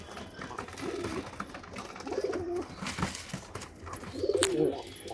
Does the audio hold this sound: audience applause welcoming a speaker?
no